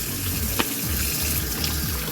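Tap water runs steadily into a sink while produce is rinsed, a continuous close splashing rush with faint clinks.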